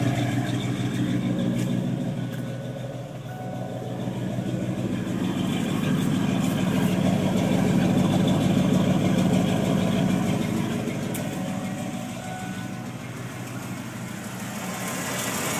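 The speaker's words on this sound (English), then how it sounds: "That ticking on the driver's side is the injectors you hear." A 351 Windsor V8 engine idles close by, with a light, rapid fuel injector ticking running steadily through its low hum.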